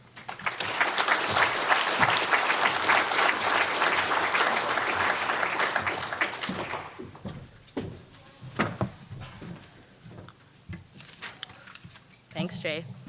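An indoor audience at a conference claps warmly to welcome two speakers, a dense burst of applause that fades into scattered claps and shuffling, with a voice starting to talk near the end.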